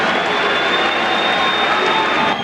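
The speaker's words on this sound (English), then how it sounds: "Let's have a big round of applause for Pat Jackson." Loud, dense crowd applause and cheering for boxer Pat Jackson at a boxing match, a steady roar of clapping and voices that holds throughout and cuts off abruptly near the end.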